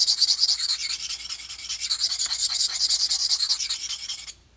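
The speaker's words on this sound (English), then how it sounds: "I'll just scrub the knife back and forth" Steady, rapid back-and-forth scrubbing of a knife blade across a sharpening stone, close and continuous for several seconds before stopping abruptly.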